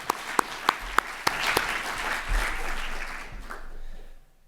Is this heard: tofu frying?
no